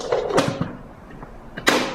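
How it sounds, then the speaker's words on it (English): A couple of sharp plastic clunks and clicks, close up, as a blender jar is twisted and locked into its base while making rice cake batter, with a quiet gap between. "Then I will lock in my blender"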